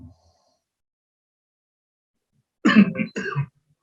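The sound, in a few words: cough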